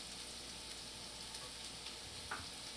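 A spoonful of ginger sautéing in a pan for broccoli beef, a faint, even hiss of sizzling oil throughout with one small clink near the end.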